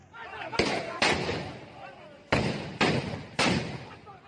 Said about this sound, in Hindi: गोलियां चल रही हैं, हथगोले भी चले